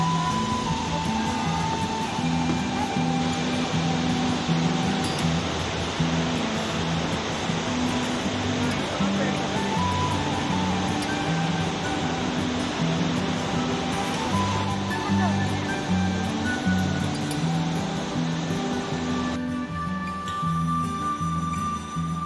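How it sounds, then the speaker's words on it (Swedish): A waterfall in Chiang Mai, Thailand, pours with a steady, loud, broadband rush that holds unbroken throughout, with faint voices in the background. "Ja, det är ju ett fint vattenfall."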